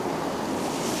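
Gentle sea waves washing at a harbour at sunrise on a calm day, a steady soft hiss of surf with light wind noise, continuous and fairly quiet.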